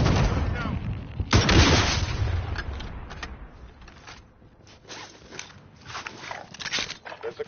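Loud booming gunfire and blast sounds from a PS4 shooter game hit repeatedly over several seconds, with one heavy launch-like burst early on and scattered footsteps and voices in between.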